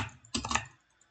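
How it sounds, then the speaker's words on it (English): Computer keyboard keys clatter in a short, loud burst of clicks, close to the microphone, during a Skywars game, with no talk over them. "my keyboard is so loud"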